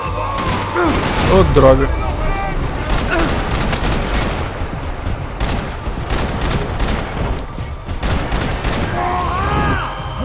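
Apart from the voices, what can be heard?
gunfire in the video game Max Payne 3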